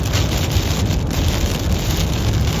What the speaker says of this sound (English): So some intense rain here.